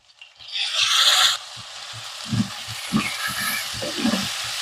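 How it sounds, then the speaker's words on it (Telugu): Tomatoes dropped into hot chili masala in a pan on a high flame: a loud burst of sizzling that settles into steady frying, with spoon stirring and scraping knocks throughout, and no talking. "కారం వేసిన వెంటనే టమాటాలు వేసేసుకోవాలి"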